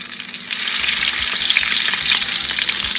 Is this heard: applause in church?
no